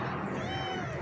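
A small rescued kitten lets out a thin, high meow amid rough background noise, one short cry heard close by.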